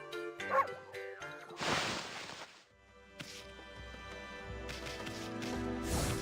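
A dog barks and yips in the Okami video game, a few sharp barks followed by whimpering cries against layered game music, clear and prominent.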